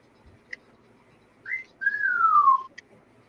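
Echo, a pet bird, whistles a short rising note followed by a longer sliding descending whistle, clear and close, with a couple of faint ticks and no speech.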